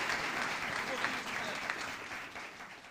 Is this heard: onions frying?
no